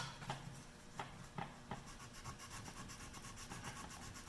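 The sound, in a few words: sanding a wooden gun stock with 80 grit sandpaper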